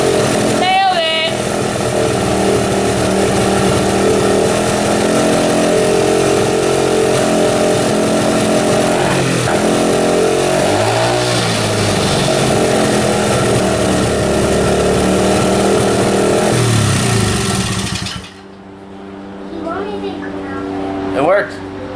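A Honda XR80 motorcycle engine runs loudly on a stand, holding a steady buzzing drone with rising revs, then cuts off abruptly near the end, leaving quieter sounds and faint talk.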